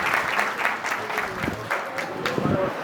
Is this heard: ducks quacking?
no